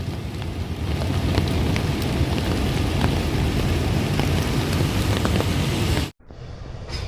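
Heavy rain pounding on a truck, a dense, loud, continuous hiss and patter lasting several seconds before cutting off abruptly near the end.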